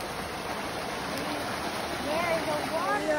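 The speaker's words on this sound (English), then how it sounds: "There's a waterfall right there." Waterfall and river stream along a wooded hiking trail, a steady close rushing wash of water heard continuously, with a voice rising faintly over it near the end.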